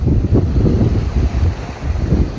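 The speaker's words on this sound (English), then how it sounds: "We've got about nearly 30 knots of wind." Strong trade winds of nearly 30 knots buffet a sailboat on a beam reach off Far North Queensland, a loud, steady roar of wind across the microphone with rushing water beneath.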